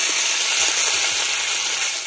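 Chilli chicken ingredients, with tomatoes mentioned, fry in a pan with a steady, loud, continuous sizzle and a few low scraping stirs, no talking.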